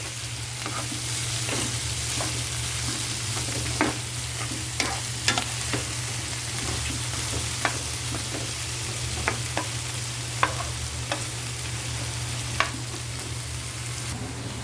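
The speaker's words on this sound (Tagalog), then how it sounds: "Halu-haluin lang natin para magpantay ang luto." Shrimp fry in a pan with garlic, a dense steady sizzle under sparse scraping taps from a stirring utensil, close and alone without speech.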